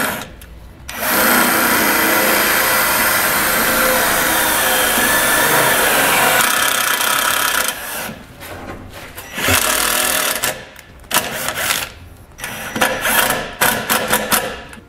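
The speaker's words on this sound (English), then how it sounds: "I'm going to take the self-tapping screw and I'm going to go right into the bottom of the frame here" A self-tapping screw is power-driven into the bottom of a 2017 Nissan's metal frame, a loud sustained whirring grind for several seconds, then shorter stop-start bursts of the driver as it seats.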